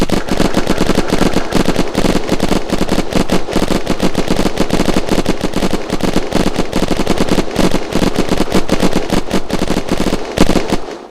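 Automatic gunfire in the survival video game Unturned during a clan raid on a server, rapid loud continuous bursts of shots filling the whole stretch without pause.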